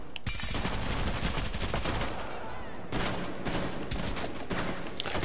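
Video game gunfire, rapid continuous automatic bursts loud and close, with a brief dip near the middle before heavy shooting resumes.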